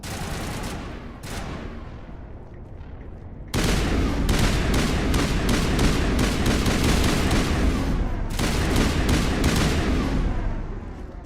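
Assault rifle fire in Mass Effect, loud close rapid shots in sustained strings, with a short pause before a long continuous burst that carries on almost unbroken to the end.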